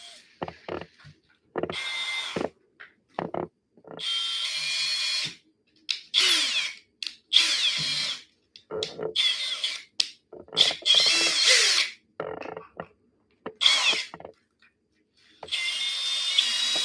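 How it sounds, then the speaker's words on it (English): Power drill driving into a tabletop in a garage workshop, in repeated short bursts of whining drilling separated by pauses, close and loud. "Let me see if I drill into my table here."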